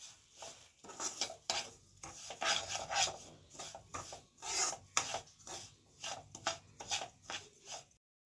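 Semolina (rava) roasting dry in a pan, a spatula rasping and scraping through the grains in repeated close strokes with an uneven rhythm.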